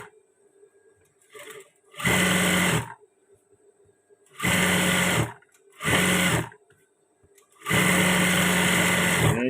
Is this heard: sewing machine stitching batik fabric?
yes